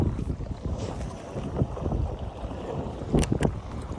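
Strong wind roaring across a microphone on a fishing boat on Lake LBJ, with choppy water slapping the hull, loud and continuous with a few sharper splashes.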